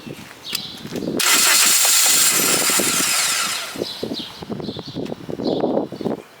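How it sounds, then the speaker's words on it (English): A car engine cranks loudly on a start attempt, a harsh whirring burst lasting a couple of seconds, followed by uneven rattling and sputtering noise close by. "And go start my car."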